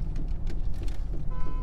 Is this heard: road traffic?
yes